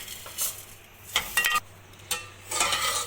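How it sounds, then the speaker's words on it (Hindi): Vermicelli fries in oil while being stirred for sheer khurma, with bursts of scraping and clinking from a spoon against the pan over a low sizzle, in irregular strokes. "सेवइयों को थोड़ा सा भून लेंगे, लाइट ब्राउन कर लेंगे, इनका कलर चेंज होने तक इनको हम फ्राई करेंगे इसी ऑयल में"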